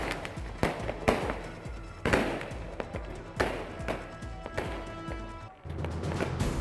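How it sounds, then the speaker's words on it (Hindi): Fireworks burst during a Radha Ashtami celebration in Barsana, a rapid string of sharp cracks and booming bangs with crackling between them, loud and close, ending in a steadier rumble. "राधा रानी के प्राकट्योत्सव पर जमकर की गई आतिशबाजी।"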